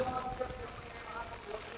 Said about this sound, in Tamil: மழை காற்றோடு அடிச்சு கொண்டு தான் இருக்குது பாருங்க.